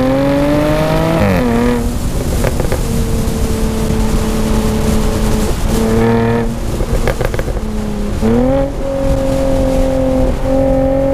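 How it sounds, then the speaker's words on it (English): A 2019 Jaguar F-Type P380 coupe with a supercharged V6 and active sports exhaust, revving loudly and up close, pitch rising and falling through repeated gear changes with a raspy, aggressive exhaust note and no talking. "Working with that supercharged V6 engine and its aggressive exhaust note"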